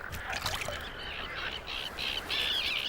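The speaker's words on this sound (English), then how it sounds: "Frogs are breeding too, and they join in the chorus." Breeding frogs croak in chorus with the calls of a tern colony nesting on floating islands in a Balkan wetland, a dense, continuous wash of repeated croaks and shrill cries close by.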